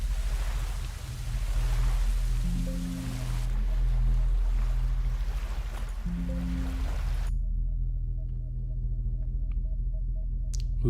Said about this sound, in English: there's soft ocean waves going behind this too